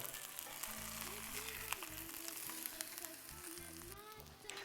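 A polenta-crusted flathead fillet sizzles steadily in oil in a pan after being flipped, a faint, even crackle with occasional pops and a low hum running beneath.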